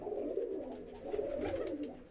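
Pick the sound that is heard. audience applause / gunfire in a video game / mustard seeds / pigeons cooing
pigeons cooing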